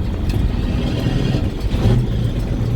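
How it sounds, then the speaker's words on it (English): A truck with a CAT engine runs under load with the throttle on as its two-speed axle is split-shifted, giving a steady, loud low-pitched engine drone with a brief surge near the end. "What we're going to do is we're going to throttle on, put a load on it, and switch it"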